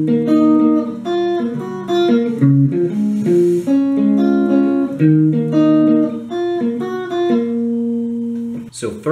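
Guitar playing the interlude of a song, a flowing sequence of picked notes and ringing chords, close and clear, ending in a short noise.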